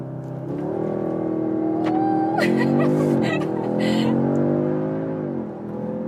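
An Audi sedan launching hard with launch control, its engine note rising loud and steady through a gear change as the car accelerates, heard from inside the cabin with a voice over part of it.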